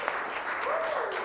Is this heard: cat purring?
no